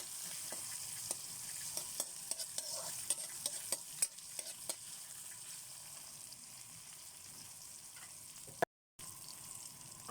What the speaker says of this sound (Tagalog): gisa tayo ng bagoong alamang. Sibuyas, kamatis, bawang, tsaka siling labuyo.